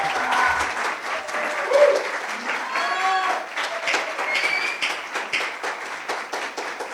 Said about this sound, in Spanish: Recibamos con un fuerte aplauso a la licenciada María Teresa Curi Trad.